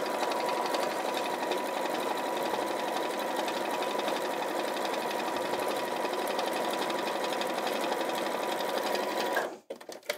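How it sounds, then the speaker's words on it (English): A sewing machine stitching along a fat quarter of fabric, a steady fast mechanical whir and ticking that runs evenly for about nine seconds, close and clear, then stops abruptly. "pivoting that around, and then sewing along the next side."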